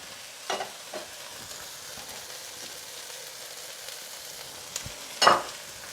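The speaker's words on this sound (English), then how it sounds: "we're just going to cook and stir the garlic for about another 30 to 45 seconds" Garlic fries in a pan during a chicken and vegetable stir-fry. A soft, steady sizzle is broken by a few utensil clacks against the pan and a louder scrape near the end.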